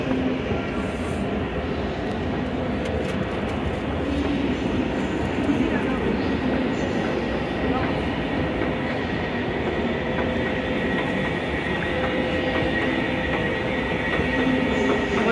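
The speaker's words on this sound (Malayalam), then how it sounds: "വീട്ടിലോട്ട് പോകുന്ന ട്രാമിലാണ്, ഞാൻ ട്രാം കാണിക്കാം കേട്ടോ." Inside a moving Berlin tram, a constant deep rumble and rolling rail noise fill the cabin, steady and fairly loud throughout with faint clacks from the track.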